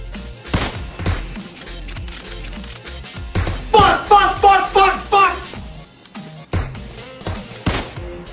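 Gunfire in the mobile shooter game PUBG Mobile, a series of sharp cracks and a rapid burst in the middle, loud and close, mixed with a voice speaking excitedly over it.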